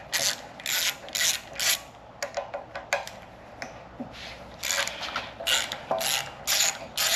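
Bolts are taken out of an electric golf cart motor with a ratchet, heard as close, bursty mechanical ratcheting clicks in repeated short runs with brief pauses between them and no speech.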